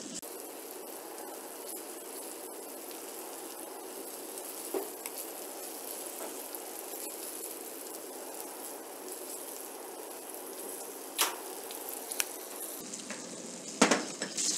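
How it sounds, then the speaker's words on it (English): Fish fries in a pan for fish meunière, a steady, quiet sizzle that crackles evenly throughout, with a few soft clinks and pops near the end. "Now by the time our fish is frying, we will prepare a bed of mashed potatoes in the serving plate."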